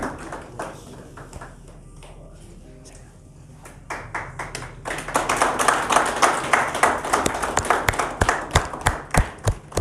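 Audience applause at an award ceremony for young swimmers begins as scattered claps over a voice. It builds into loud, dense clapping that carries on steadily to the end.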